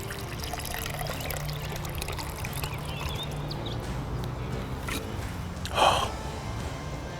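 Grilled citrus tea cocktail poured from a shaker, a soft steady trickle of liquid with a brief louder splash near the end, close by, with faint background noise throughout.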